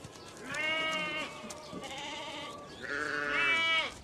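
Sheep in Kazakhstan bleat loudly and close by, several drawn-out, wavering calls with short pauses between them, with no other sounds around.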